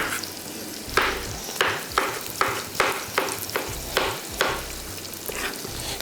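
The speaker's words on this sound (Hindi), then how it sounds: "प्याज हमारे ब्राउन हो रहे हैं" Onions frying until brown for a chicken and peas masala dish, a steady sizzle broken by regular scraping stirs about every half second, close and fairly loud with no voices.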